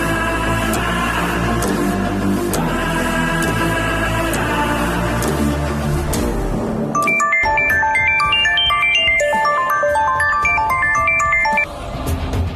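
A telephone ringtone plays a bright, repeating melody of electronic tones, clear and alone after a stretch of dramatic background music, in a Kannada TV serial scene.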